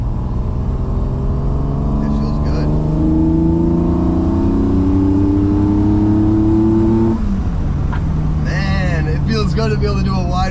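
A BMW E28 with an M30 engine on individual throttle bodies revs loudly at wide open throttle, pitch climbing steadily before dropping off. Voices talk briefly near the end.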